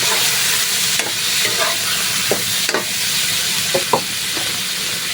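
Squid and shrimp sizzle steadily in a pot, a broad continuous frying hiss with a few soft clinks and stirring knocks scattered through it, close and fairly loud, with no talking.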